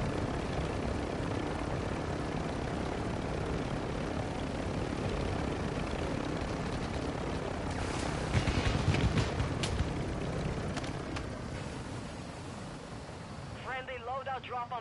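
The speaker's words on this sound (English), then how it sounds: "Get in the helicopter." Helicopter rotor and engine noise in the battle-royale shooter Call of Duty: Warzone, a steady loud whir filling the whole stretch with brief louder bursts midway and game sounds near the end.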